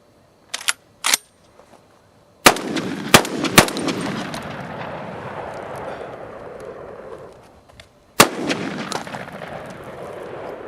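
Gunshots from a Weatherby SA-08 semi-automatic shotgun firing Remington target loads outdoors: two sharp shots, then a short quick burst of three, then a final blast, each loud and close with a long rolling echo.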